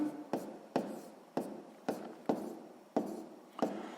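A pen scratches across paper by hand during a sixth-grade math exercise, in about eight short, evenly spaced strokes. Each quiet, close stroke starts sharply and fades quickly.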